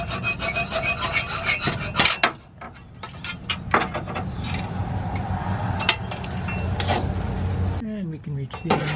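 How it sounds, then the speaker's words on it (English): A hacksaw cuts through a steel automatic transmission cooler line on a Ford F150, giving repeated rasping back-and-forth strokes up close, broken by short pauses and knocks, with some background noise. "there's just room to get a hacksaw in here, so we're just gonna cut this off"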